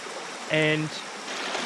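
Creek water flows steadily past bedrock at a gold prospecting spot, a constant broadband rush close by. A brief tonal sound rises over it partway through.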